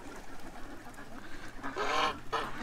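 Geese honk a few times nearby, loud nasal calls rising toward the end over a low background murmur.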